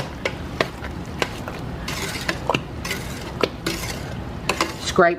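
A spoon stirs sugar into peach jam in a metal pot, giving repeated sharp clinks and scrapes against the sides in an uneven rhythm. A faint bubbling runs underneath, and a brief rattling scrape comes at the end.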